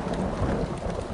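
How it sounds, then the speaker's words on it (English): Steady rain falling with a low rolling rumble of thunder underneath, a dense, continuous wash of sound. "I don't like this thunder and lightning."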